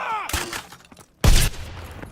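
PPSh submachine gun fire in the Call of Duty WWII video game, heard as two loud bursts, one brief and one longer and heavier, with game sound filling the gaps.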